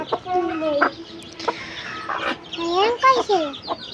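Chickens cluck and squawk nearby in quick, uneven bursts, with a louder rising call near the end.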